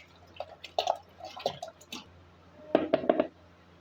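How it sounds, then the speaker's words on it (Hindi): Milk poured from a bottle into drained rice for traditional kheer, heard as a few short splashing, trickling bursts of liquid, close and moderately quiet, with no talk. "ये बोतल, इसमें सारा ये दूध डाल देना है।"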